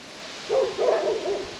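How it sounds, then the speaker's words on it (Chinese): A dog barks in the distance on a forested hillside hiking trail in Shuangxi, New Taipei: a few faint, hollow barks in two short bursts over a quiet outdoor background. "听到狗吠声了"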